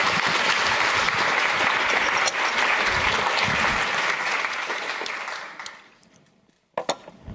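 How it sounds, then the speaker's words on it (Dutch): An audience at the opening of an evening event on dictatorship gives a warm round of applause, dense and loud for about five seconds before thinning out and dying away, then a few scattered claps follow. "Geef hem een warm applaus."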